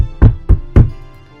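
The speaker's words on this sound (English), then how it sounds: "She knocks on the door." Three sharp knocks on a door, a game sound effect from the visual novel Tsukihime, land in a quick uneven rhythm, close and solid, with nothing else heard.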